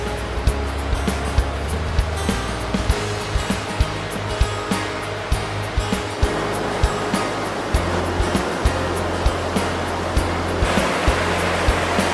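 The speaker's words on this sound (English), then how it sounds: "I'm right next to the river." Raging river rushing beside a game lodge on a South African hunting trip, a steady broadband roar of churning water close by, continuous throughout with occasional sharper splashes and no voices.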